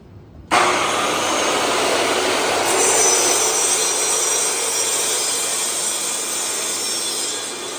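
A woodshop bandsaw cuts through wood with a loud, steady broadband whine that starts abruptly and holds nearly unchanged to the end, with no talking.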